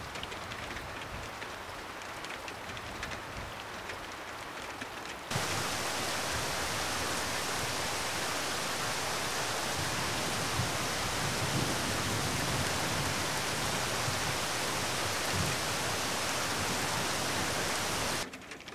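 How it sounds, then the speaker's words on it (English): Warm tropical rain pours steadily in Thailand, a dense even hiss that grows much heavier after the first few seconds and holds loud and close, with no talking. "even in the rain, you could be out there and it's just like having a warm shower"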